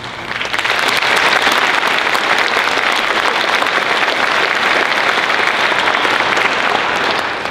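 A crowd claps and cheers at a Portland Police Bureau awards ceremony, a dense, loud, continuous roar of applause that swells quickly and holds steady for several seconds with no talk over it.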